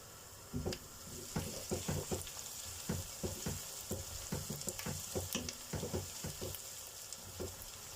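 Oil frying in a pot at the start of bulgur pilaf, a steady close hiss broken by frequent sharp crackles and spits, with no one talking.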